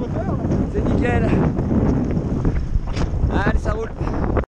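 Heavy wind buffets a microphone outdoors in a continuous loud roar, with a voice talking over the gusts throughout.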